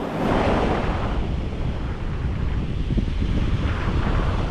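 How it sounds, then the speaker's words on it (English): Strong wind buffeting the microphone on a beach while fishing, a constant loud roar mixed with a faint wash of surf, with no voices. "Sorry about the wind, guys."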